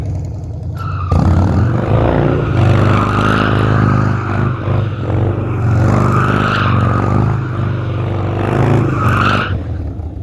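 A Harley Dyna motorcycle drifting with its rear tire broken loose, a loud close engine roar under a continuous squealing tire that rises and falls, cutting off abruptly near the end.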